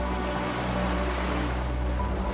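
Sea waves of the Aegean wash and surge continuously at close range, a steady broadband roar with low rumble and no voices.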